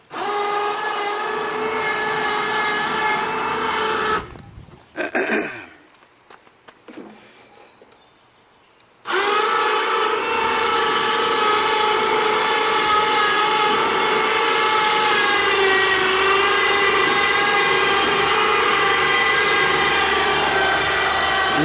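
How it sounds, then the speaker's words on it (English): An electric winch drags a 30-inch lawn mower onto a trailer with a loud, steady motor whine that stops for a few seconds, then resumes and runs evenly to the end. "Love my winch."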